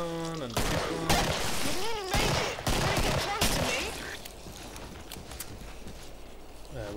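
Several loud gunshots crack in quick succession in the Killing Floor zombie shooter, then fade into softer game noise while someone talks throughout.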